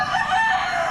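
A rooster crows once in a single drawn-out call, loud and close, with no talk and no other noise in the second-long snippet.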